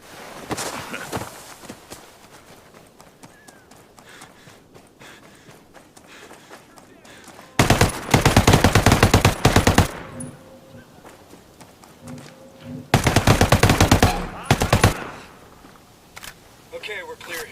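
Two loud bursts of rapid automatic gunfire ring out in a tactical shooter video game, with quieter stretches and voices talking between them.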